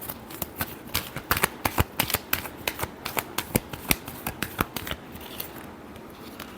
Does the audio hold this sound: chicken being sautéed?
no